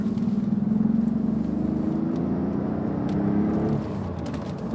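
A classic car accelerates, its engine note a steady, rising drone with a whirring tone heard from inside, holding strong before easing slightly near the end.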